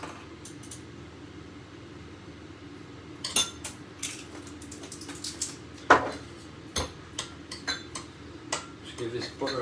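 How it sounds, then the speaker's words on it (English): A utensil clinks and scrapes in a pan while mixing butter with sage, basil and oregano, producing irregular close metallic taps and clatters under a person talking. "just give this butter a mix"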